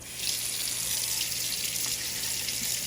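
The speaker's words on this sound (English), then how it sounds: "And we're gonna go ahead and rinse it." A kitchen sink faucet runs steadily as a dishwasher part from a KitchenAid dishwasher is rinsed under it, giving a continuous close hiss of flowing water with no talk.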